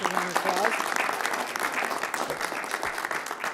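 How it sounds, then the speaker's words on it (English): A round of applause for Mike McMahon, Staten Island's own and leader of a district attorneys' organization, at a public safety announcement, dense steady clapping at moderate distance with a faint voice beneath it in the first moments. "our give Mike a round of applause"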